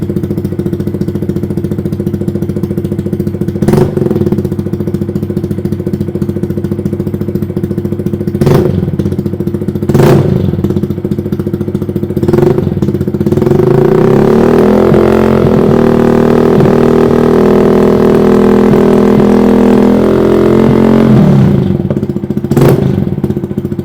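Honda Monkey fitted with an Over Racing RS-R titanium exhaust with the baffle removed, idling with a deep, loud burble and several sharp blips of the throttle, then a sustained rev that climbs and falls back to idle.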